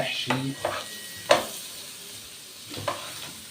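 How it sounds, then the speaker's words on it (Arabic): Small chopped pieces of pigeon and liver being stir-fried in a pan, a soft sizzle broken by a few sharp scraping stirs, close and alone. "هنحطهم معاهم ياخدوا تقليبه، ونقلب تقلبتين كده"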